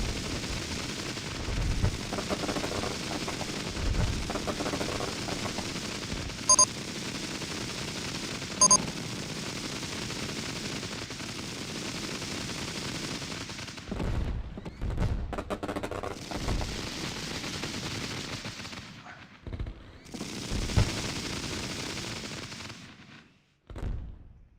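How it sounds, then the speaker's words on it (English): Fireworks in the RollerCoaster Tycoon video game crackle and pop in dense bursts over a steady hiss of game noise, with several sharper loud bangs standing out. "I don't know why our fireworks are going off during the day"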